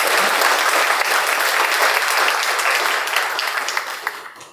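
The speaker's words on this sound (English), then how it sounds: "A round of applause for Mr." An audience at a panel discussion launch event applauds a panelist, steady dense clapping for a few seconds that tapers off near the end.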